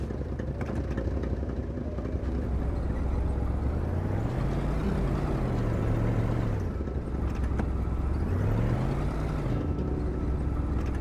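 A truck driving in the video game Kona, its engine droning close and steady, with pitch rising and falling twice as it accelerates and eases off.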